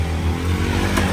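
A motorbike or scooter engine runs close by with a steady low hum on a slippery road near Manichud Daha, with a brief rev near the end.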